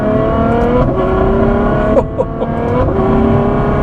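A 2015 Ferrari F12 engine drones loudly from inside the cabin, its pitch rising and falling with a couple of abrupt thumps as gears change.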